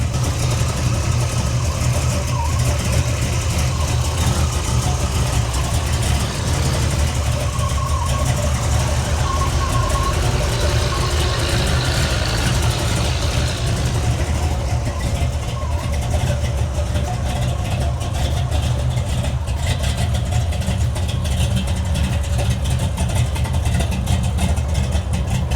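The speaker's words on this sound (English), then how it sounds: "Idling right away, which is a good sign." Big block V8 in a 1972 Chevy Nova idling steadily, a continuous deep rumble held loud and close for the whole stretch, with faint talk under the engine.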